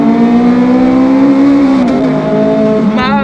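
A Ferrari 430 Scuderia accelerates hard in second gear, its loud engine note climbing steadily in pitch, heard close from inside the car, with a brief shift near the end.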